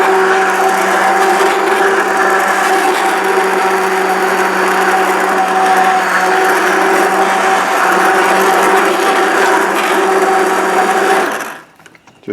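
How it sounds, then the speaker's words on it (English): Blender running steadily, pureeing gluten-free broccoli and celery soup, a loud continuous motor whine for about eleven seconds before cutting off abruptly. "I might even use a blender."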